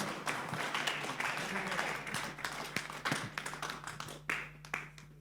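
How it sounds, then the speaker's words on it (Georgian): Audience applauds fighters at a combat sports event, a faint, steady wash of many hands clapping that thins into scattered individual claps toward the end, over a low background hum. "კიდევ ერთხელ აპლოდისმენტები მებრძოლებს"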